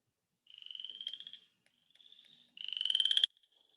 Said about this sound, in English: this, the chorus frog, definitely for this time of year